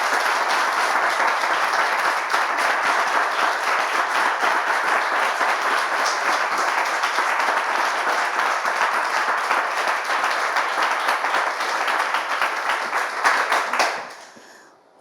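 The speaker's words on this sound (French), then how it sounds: "On l'applaudit, s'il vous plaît." Studio audience on a French television talk show applauding a guest's arrival, a long steady wash of dense clapping that holds loud and even before cutting off sharply at the end.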